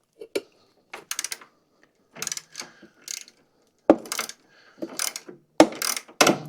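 A 3/8 12-point socket on a ratchet loosens bolts during a hydro pump swap on a Toro or Exmark zero-turn mower, giving several close, sharp bursts of rapid clicking separated by brief pauses.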